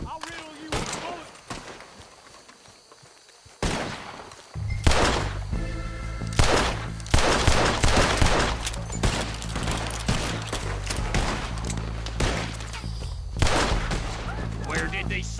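Gunfire in the video game Red Dead Redemption 2 during a first-person shootout, repeated heavy shots and rapid volleys booming close over a low rumbling soundtrack, with game characters shouting between bursts.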